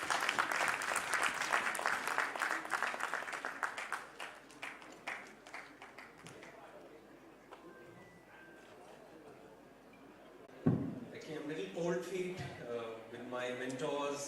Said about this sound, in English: So please have a huge round of applause